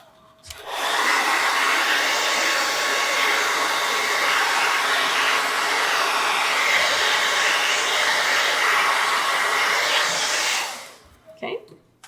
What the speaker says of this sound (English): I am going to hit the blow dryer for a hot second just to make sure that's dry.